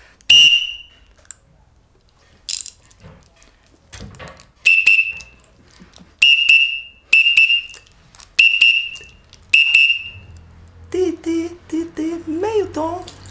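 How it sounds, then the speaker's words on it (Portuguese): Repeated piercing blasts of a street-carnival conductor's whistle for the Tiro-Queijo band in Belo Horizonte: about seven short, loud, close toots at an irregular pace, followed by someone talking. "então este é o apito do Tiro-Queijo"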